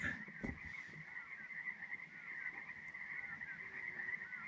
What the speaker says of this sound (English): It's a chorus of frogs and birds and all kinds of things out there tonight.